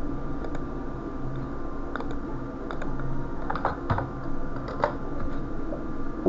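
Someone types a single word on a computer keyboard, with a short run of crisp, close key clicks in irregular rhythm over a faint steady hum and no talking.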